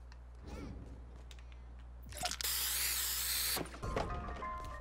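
A can of spray paint hisses in a video game, one loud continuous burst of about a second and a half after a few faint clicks, with brief sounds of people around it.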